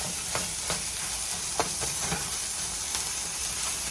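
Crumbled chorizo frying in a hot pan gives a steady, close sizzle and hiss, with a few soft stirring scrapes and no talking.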